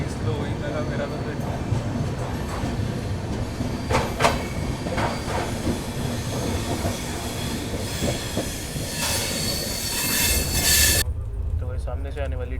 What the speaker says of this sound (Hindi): सामने से आने वाली train number 22414 Hazrat Nizamuddin Madgaon Rajdhani express